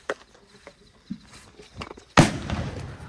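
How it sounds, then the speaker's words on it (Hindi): A gun fired in celebration at a Sikh family gathering gives one sharp, loud close blast followed by a lingering rumbling tail, preceded by scattered small knocks and movement. "चलो फायर निकालते हैं।"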